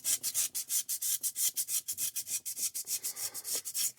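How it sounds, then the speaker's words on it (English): Hand sanding of a fire agate stone with sandpaper, a steady run of rapid, rhythmic rasping strokes, close and fairly loud, with no voices. "kind of hitting it with sandpaper"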